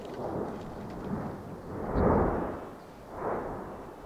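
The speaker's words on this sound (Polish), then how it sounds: "zastanawiacie się, jak to jest, że ten wulkan cały czas wybucha" Volcano erupting in Guatemala, a deep rumbling roar that swells and fades in slow waves, peaking in two heavy surges, distant and thunder-like with no speech.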